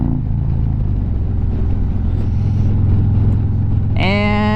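A 2024 Harley-Davidson Road Glide with Stage 1 upgrades rumbles steadily while riding, a deep continuous engine drone with wind noise, loud and close, ending in a sudden higher-pitched tonal whine.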